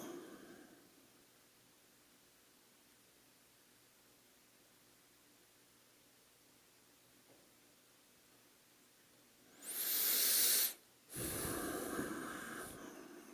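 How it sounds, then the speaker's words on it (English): Heavy breathing during a guided meditation session, with a long quiet stretch followed by two loud, close, noisy breaths, a strong inhale and then an exhale. "Keep breathing normally."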